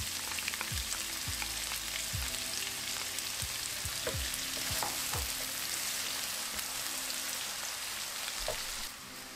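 Finely chopped onions fry in a pan for taro root masala, giving a constant loud hiss of oil with regular spatula scrapes and taps throughout.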